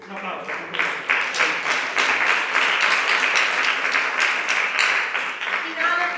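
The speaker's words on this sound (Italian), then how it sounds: "Un applauso." A theatre audience at the Teatro Piermarini in Matelica applauds at the end of a show: dense, steady clapping that swells and holds for several seconds, with voices talking over it.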